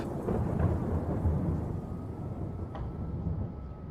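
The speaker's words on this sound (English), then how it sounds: "The rain and thunder started to feel comforting" Steady rain pours with low, rolling thunder rumbling through it, a dense wash of sound that stays loud, then eases slightly toward the end.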